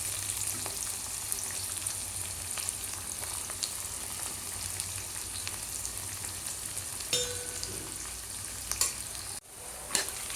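Onions and chilies sizzle in a pan for kanda poha, browning to golden, a steady close crackle of frying oil with occasional clinks of a spoon against the pan, no voices.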